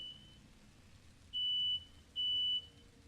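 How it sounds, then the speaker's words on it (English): A fire alarm goes off as two short, high electronic beeps spaced under a second apart. They sound faint and distant over a low background hiss. "There's a fire alarm going off"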